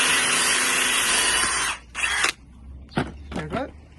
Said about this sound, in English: we're going to drill a hole at the back there, and that will be easy for the cable to come through